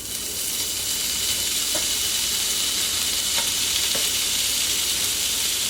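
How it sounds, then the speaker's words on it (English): Four chopped bacon strips sauté in a heated skillet, giving a steady, close sizzle and crackle that holds evenly throughout with no talking. "This is just 4 strips of bacon that I've chopped up or cut up. So you want to saute that until it's a nice golden brown color."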